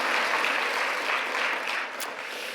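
A church congregation claps together at a Good Friday worship service, a dense, sustained round of applause filling the room evenly from start to finish with no voices over it.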